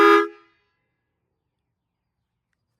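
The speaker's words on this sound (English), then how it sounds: "Ready to see the horn in action?" A train horn mounted on a tricycle lets out one short, very loud blast, then cuts to silence.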